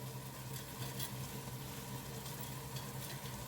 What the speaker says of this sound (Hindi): तो अब इसमें डालते हैं फ्राई किए हुए अनियंस